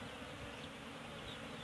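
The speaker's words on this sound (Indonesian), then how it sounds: "Ini yang hitam besar ini adalah lebah-lebah pejantan." Apis cerana honey bees buzzing at the hive, a dense continuous drone of many insects close by, steady and moderately faint.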